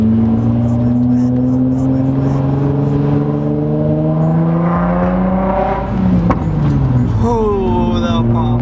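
A Nissan G35's engine revs and climbs in pitch with a raspy tone from a cheap aftermarket exhaust, dropping off near the end, with a voice talking over it.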